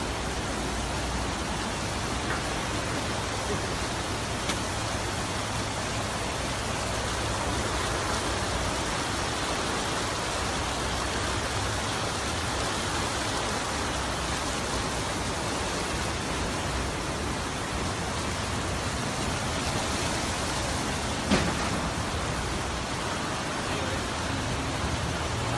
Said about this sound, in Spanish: Y la lluvia va a continuar para los próximos días.